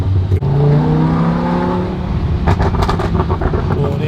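A Lamborghini supercar's engine growls and rises through a throaty rev as the car pulls in close, followed by a rumbling idle with crackling bursts from the exhaust.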